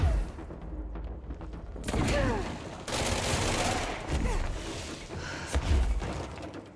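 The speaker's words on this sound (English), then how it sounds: "I'm being sniped." Bursts of sniper and automatic gunfire in the video game Control, loud thumping shots and mechanical clatter over continuous game noise.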